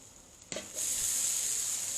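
Chilled, day-old cooked rice hits a hot cooking surface for shrimp fried rice, with a sharp initial contact followed by a steady, loud sizzle that builds and holds.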